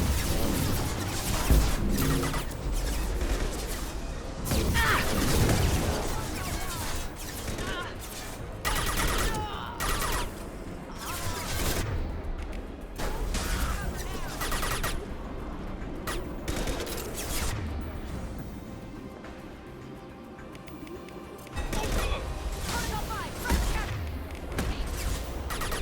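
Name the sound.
gunfire and explosions in video game Mass Effect 2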